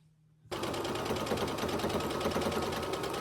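After a moment of near-silence, a sewing machine starts abruptly and runs at a steady, fast clatter, stitching a quarter-inch seam on a fabric keepsake teddy bear, close and continuous to the end.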